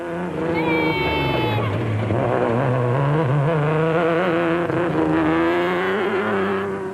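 A Nissan race car competes in the 2005 Lesotho Sun 400: a loud, close engine drone with steady harmonics that rise and fall as it revs and shifts through the whole stretch.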